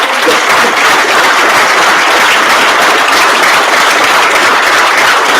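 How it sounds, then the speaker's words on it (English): An audience at the Dustoff Summit 2025 applauds Vietnam veterans, a dense, loud, unbroken wash of many hands clapping at once that holds steady for several seconds. "may I please get another round of applause for our Vietnam veterans, all of them"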